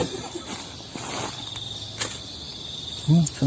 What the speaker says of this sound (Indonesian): Pasti jangkrik lah.